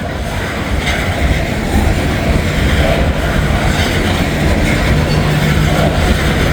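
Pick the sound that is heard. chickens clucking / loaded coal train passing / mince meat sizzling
loaded coal train passing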